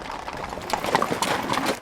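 A herd of horses on a long cattle-style drive moves along at a quickened pace, their hooves producing a busy, overlapping clatter of clip-clops at moderate distance, fairly soft and continuous.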